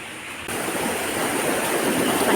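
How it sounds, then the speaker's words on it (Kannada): Rain-swollen pond water overflowing into a stream, a continuous broadband rush of flowing water that swells a little louder after the opening moment and stays steady, with no voices. "ಈಗಂತೂ ನೀರು ತುಂಬಿಬಿಟ್ಟಿದೆ ಹರಿದೋಗ್ತದಲ್ಲಿ ಹಾಗೆ ಹೊಳೆಗೆ"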